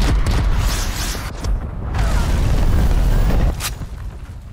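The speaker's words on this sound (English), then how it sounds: "Cruise missile inbound." A cruise missile explodes in Call of Duty Black Ops Cold War multiplayer, a loud, sustained, rumbling blast with heavy low end. It swells and churns for several seconds, then tapers into a fainter rumble.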